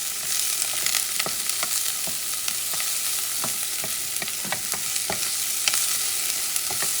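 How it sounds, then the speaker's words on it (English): Onions fry in a pan for Portuguese duck rice, with a steady, moderately loud sizzle and a series of sharp scraping stirs at irregular intervals, no voices. "And I'm going to add the onions."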